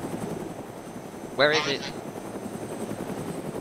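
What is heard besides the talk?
helicopter flying overhead in the video game DayZ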